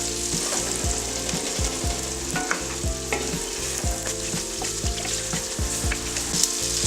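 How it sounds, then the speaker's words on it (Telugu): Peeled, cut drumstick pieces fry in oil while being stirred in a pan for sambar, giving a steady close sizzle broken by regular scraping strokes of a spoon, with no voices. "తొక్క తీసి కట్ చేసి పెట్టిన మునక్కాయలు వేసాక ఇవి కొద్దిగా ఆయిల్లో ఫ్రై కావాలి."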